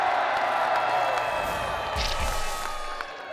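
A crowd cheers and claps for the winning team at a MechMania robot combat event, a steady, roomy roar of voices that holds for a few seconds and fades slightly at the end.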